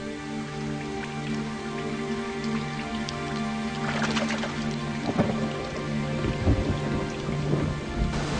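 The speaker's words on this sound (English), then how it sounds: "Spring storms are common and can last for days." A spring rainstorm in snow monkey country, with steady heavy rain hissing on surfaces and rolling thunder swelling in the middle and again near the end.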